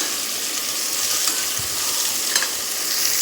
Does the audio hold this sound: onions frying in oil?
yes